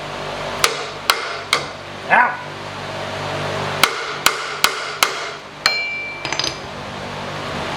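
Sharp metallic hammer strikes ring out on a truck rear end during an axle swap on a 2004 Chevy Avalanche, about nine separate blows spaced irregularly, close and loud, with a brief cry in between.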